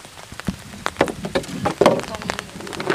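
Rain falling outdoors beside a weir spillway where fish traps are set, with scattered raindrop hits tapping irregularly over a steady wet patter, fairly close.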